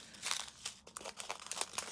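Plastic bags of diamond painting drills are snipped and handled in quick succession, giving crisp crinkling and rustling bursts up close, with no voices.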